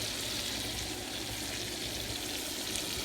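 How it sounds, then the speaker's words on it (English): Onions, green onions, celery and white onions sauté in sizzling butter in a pan, a steady dense crackling hiss, close and even throughout. "So we got our butter sizzling in the pan."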